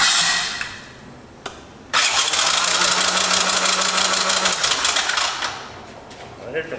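An abandoned three-wheeler engine cranking after fuel is added: a loud, steady mechanical churning with a low droning hum running for a few seconds, then cutting out.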